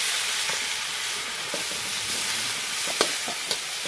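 Pork intestine frying in rendered pork fat, a steady broadband sizzle throughout with a few sharper pops and crackles near the end, close and continuous with no talking.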